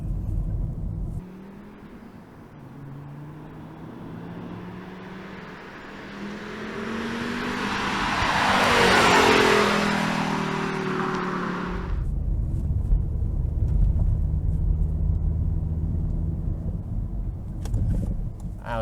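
A Volvo S60R rolling slowly in comfort mode on cold oil, with a low engine rumble that swells as the turbo builds, then a brief airy whoosh of blow-off before the drone settles and continues, close and fairly loud.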